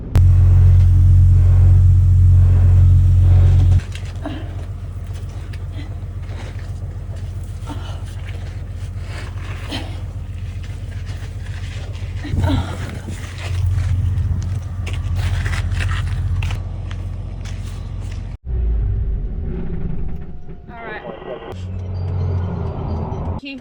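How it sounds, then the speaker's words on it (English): A tanker truck is driving, its engine putting out a loud, steady low rumble throughout. Road noise and a brief break shift the tone partway through. "the truck's driving beautifully already"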